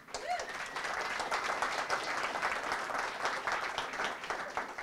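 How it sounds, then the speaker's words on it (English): An audience at a Vancouver VR/AR event gives its panelists a sustained round of applause. The clapping is moderately loud, dense and steady from start to finish, with no speech over it. "So let's give our panelists a huge round of applause."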